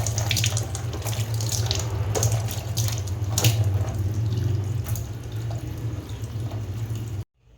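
Tap water runs steadily into a sink at home while someone washes their face, a continuous close splashing rush that cuts off abruptly at the end.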